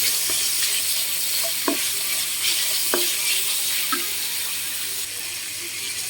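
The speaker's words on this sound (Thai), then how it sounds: "ต่อไปก็ใส่กระเทียม แล้วก็ผัดกระเทียม" Garlic stir-fried in bacon fat in a pan, a continuous sizzle broken by several sharp scrapes and clinks of a utensil stirring against the pan, close and fairly loud, with no talking.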